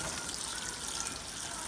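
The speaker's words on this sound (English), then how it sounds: "I'm putting some water in there because I can." Water poured into plastic bottles for a bottle-cap filter prototype, a steady splashing gush that stays close and loud throughout without speech.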